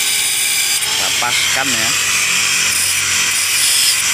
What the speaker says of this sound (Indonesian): Lalu kita potong ya dengan grinder.